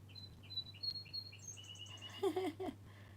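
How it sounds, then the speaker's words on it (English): Small songbird chirping and tweeting outdoors, heard faintly from a distance in a series of short, repeated high calls that grow busier toward the end, over a steady low background hum. "Hear that pretty bird out there tweeting like crazy, singing its song, little birdie."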